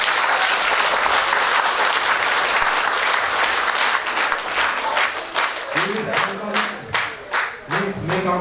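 Crowd applause fills a commemoration event for the 110th anniversary of the Armenian Genocide, loud and sustained at first, then thinning into distinct rhythmic claps near the end as a few voices rise over it.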